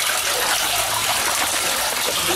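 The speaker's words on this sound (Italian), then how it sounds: "Come vedete l'acqua che scorre" Water leaks from a building's pipes and gushes steadily down through gear and electrical equipment, a loud, continuous rushing flow recorded close up with no voices.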